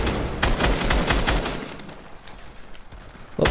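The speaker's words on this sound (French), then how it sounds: "je mitraille un peu tout" Rapid machine-gun fire in Fortnite, dense bursts of shots for the first half, then scattered single cracks and a final loud burst at the end, close and loud with no talk.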